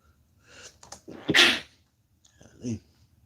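A single sharp sneeze, preceded by a quick intake of breath and followed by a short breathy sound, fairly quiet overall.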